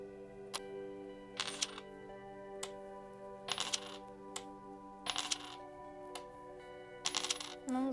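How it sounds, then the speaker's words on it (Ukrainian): Bright metallic coin chimes from the video game A Little To The Left ring out at irregular intervals over a steady electronic hum, each a short jingly burst, some in quick pairs. "За звуком це наче монети"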